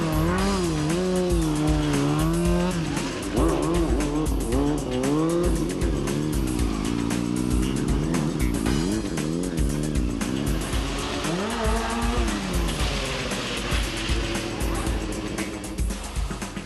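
A motorcycle carries a passenger on a ride at a motorcycle show in Abbotsford. The engine roars loud and close, its revs rising and falling through the whole ride, with tire squeal over the top.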